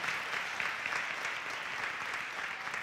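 A church congregation claps for the children's ministry at a baptism service, a sustained, even wash of many hands applauding together without talk.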